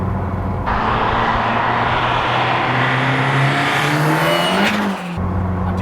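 A 350bhp Mk1 Ford Escort Cosworth drives with a loud, steady engine drone heard from inside the car, its pitch rising as it revs and then easing off near the end.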